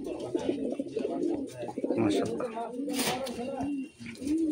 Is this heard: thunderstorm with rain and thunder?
no